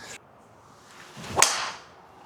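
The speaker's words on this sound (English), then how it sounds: "It's a good solid strike, good flight again." A TaylorMade Qi4D LS driver strikes a golf ball, one sharp crack followed by a whooshing swish of the ball in flight, close and loud against quiet outdoor air.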